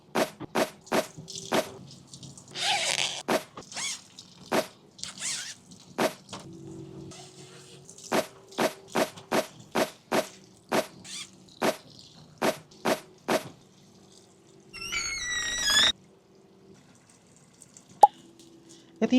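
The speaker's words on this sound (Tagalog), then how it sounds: "Sinet ko na para may tubig ng tumutulo." Water drips from hung laundry in a steady series of close, distinct plops, evenly spaced over the whole stretch, with a brief voice and a short rustle near the end.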